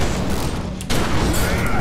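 Gunfire in The Secret World video game pounds out as loud, dense, continuous shots, easing off briefly just before the halfway point, then resuming as heavily as before.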